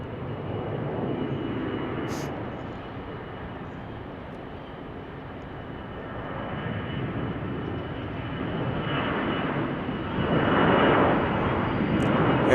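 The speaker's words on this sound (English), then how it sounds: "Airbus A321 departing here on runway 34 right." An Airbus A321 jet departs runway 34 right at Salt Lake City, its engines a loud, steady broadband roar that swells further near the end of its takeoff run.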